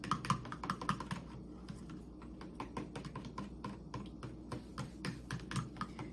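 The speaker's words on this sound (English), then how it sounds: "in another bowl you're whisking the buttermilk. So we have 3/4 cup of that, and then we have added the egg. So we will just whisk it until it's mixed together" Buttermilk and egg are whisked together in a bowl: quiet, rapid irregular clicking and tapping of the whisk against the bowl, close and soft, continuing for several seconds without talk.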